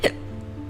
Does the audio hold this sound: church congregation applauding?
no